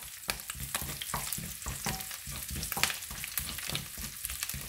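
Garlic frying in rendered pork fat, a close continuous sizzle broken by frequent sharp spattering pops and crackles throughout, with no voices.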